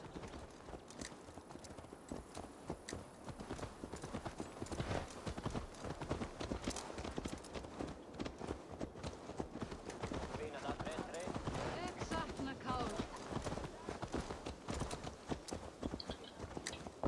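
Horse hooves clip-clop in a steady trotting rhythm in Assassin's Creed Valhalla, continuous and fairly close, with talk heard over the hoofbeats.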